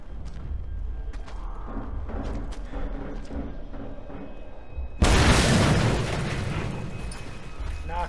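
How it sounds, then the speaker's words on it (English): An explosion in the Mad Max video game lands as a sudden, loud booming burst partway through. It follows a stretch of low, rumbling game noise, and the roar slowly tails off afterwards. "That one probably is an explosion too"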